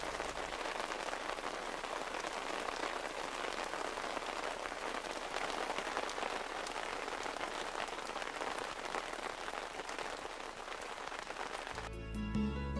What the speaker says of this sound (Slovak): Náš príchod charakterizovala prudká zmena počasia a dlhotrvajúci dážď.